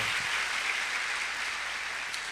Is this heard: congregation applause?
yes